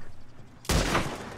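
A single Springfield rifle shot in the Red Dead Online video game, one sharp close blast that rings and decays for most of a second after a quiet lead-in.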